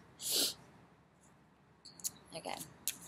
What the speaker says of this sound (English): I'm really sorry about my sniffling.